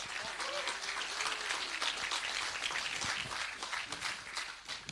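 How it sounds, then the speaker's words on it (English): An audience at a LUMIX 72-hour filmmaking challenge event applauds the filmmakers, with dense, continuous clapping at moderate distance and a few scattered cheers or voices under it. "Give them a round of applause."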